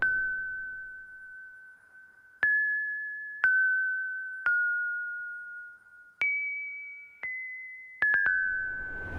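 A clean bell tone plays a simple melody of struck notes, each ringing and fading before the next, with a quick cluster of strikes near the end, in a vintage soul style.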